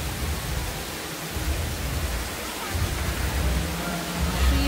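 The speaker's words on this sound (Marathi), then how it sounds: "पाऊस आहे ना बारीक बारीक" Light drizzling rain falls outdoors at a temple, a steady, broad, close hiss with no clear breaks.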